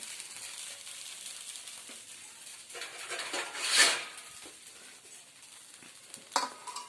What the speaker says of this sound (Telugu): నేనైతే చూడండి అట్లు గోధుమ పిండి కలిపి నేనైతే అట్లు వేసుకుంటున్నాను